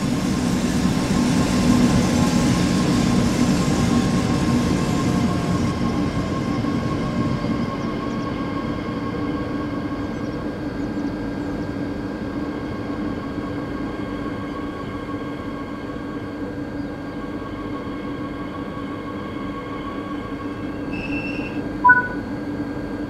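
Steady rumbling drone of an ÖBB 1116 locomotive train slowing into a station on the Semmering line in Train Sim World 4, with a faint high whine of brakes and a short squeal near the end.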